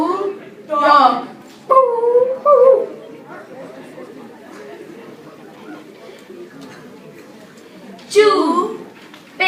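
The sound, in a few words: howling dog imitated in a Chinese zodiac puppet show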